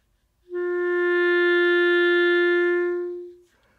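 An open G on the clarinet, played with no keys pressed, rings out as one steady, pure tone for roughly three seconds, close and unaccompanied.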